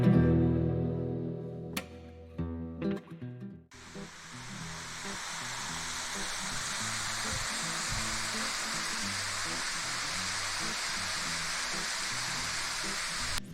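Rylander Falls, a waterfall near Sparta, Tennessee, roars as a steady, loud broadband rush after a few seconds of brief knocks and handling sounds at the start.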